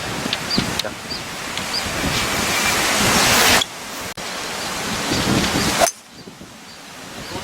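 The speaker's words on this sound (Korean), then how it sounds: "와 바람이." Strong wind gusting across an open golf course on a par-3 hole, a loud rushing roar buffeting the microphone in surges that cut off abruptly, with faint voices underneath.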